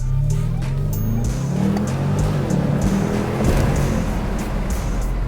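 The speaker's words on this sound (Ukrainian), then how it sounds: "пропоную перше послухати звук взагалі вихлопа" A Mercedes-Benz S560 (W222) sedan's deep exhaust rumble in sport mode, rising and falling as it revs and shifts down, close and loud, with occasional sharp pops.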